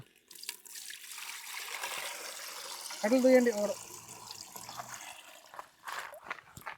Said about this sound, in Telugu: నీళ్ళు పోయాలరా